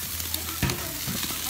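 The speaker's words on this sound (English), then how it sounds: "I love the sound. Steak grilling." Steak sizzles on a grill, a steady crackling hiss with a few sharper pops and a brief scrape or thump partway through.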